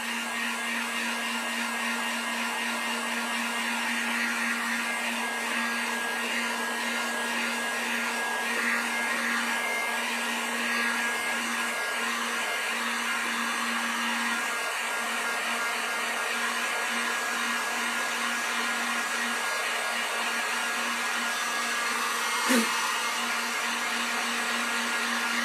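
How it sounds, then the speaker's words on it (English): A heat gun drying acrylic paint on a wood-grain painted spring sign blows a loud, steady, continuous whir with a constant hum throughout, and a brief click near the end. "Let's heat gun this one more time for you guys."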